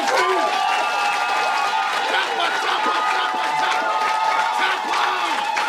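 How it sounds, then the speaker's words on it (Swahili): A church congregation claps and cheers loudly and steadily throughout, a dense crowd roar with shouting voices mixed in. "Pigia Yesu makofi."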